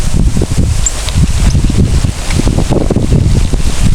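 Steady wind buffeting the microphone, a loud continuous rumble with rustling through it and no talking.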